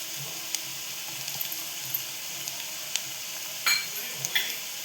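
Turmeric added to a sizzling pan for a prawn and drumstick curry: a steady soft fry hiss with light scattered taps and a spoon scrape, close, no speech.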